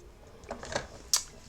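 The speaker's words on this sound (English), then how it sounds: "I'm going to cut that all the way down" A paper trimmer slices cardstock for a handmade birthday card: a faint, brief gliding scrape ends in one sharp click, all quiet and close.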